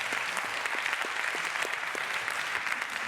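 A conference audience applauds with dense, steady clapping that fills the room evenly and loudly for a few seconds, with no voices standing out.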